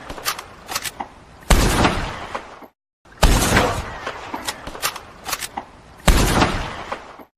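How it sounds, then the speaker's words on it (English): Carbine repeater rifle firing in Red Dead Redemption 2, three loud cracking shots spaced about two seconds apart, each with a booming tail that rings out before the next, with no talking. "next we have is the carbine repeater, which is a reliable repeating rifle with a solid firing rate and quick reload speeds"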